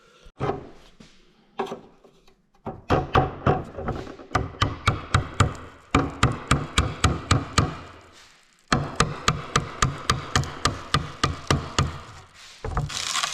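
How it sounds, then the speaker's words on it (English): Bonded fiberglass is scraped and chiseled off a K100 cabover truck cab in rapid, repeated sharp knocks and taps. The strikes come in fast runs separated by short pauses, loud and close. "I'm gonna go get a chisel and try and chisel it off"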